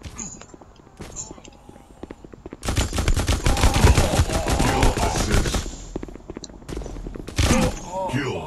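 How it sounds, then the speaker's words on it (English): In the Android shooter game Guns of Boom, automatic gunfire crackles in rapid, loud bursts with short pauses between them, alongside a few fainter single shots. "Someone just came out of the corner and shot me."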